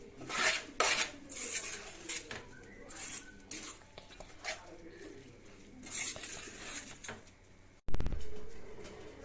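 Star fruit pickle is mixed in a dish with close, irregular scraping and clinking of a spoon against the vessel, quiet overall, ending with a sharp louder knock.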